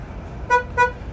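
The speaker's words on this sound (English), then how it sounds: "and it will honk twice." A Volvo VNL860 truck horn honks twice in quick succession on alarm disarm by remote, two short, loud, bright beeps over a low engine-like rumble.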